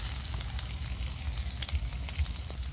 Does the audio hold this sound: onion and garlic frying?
yes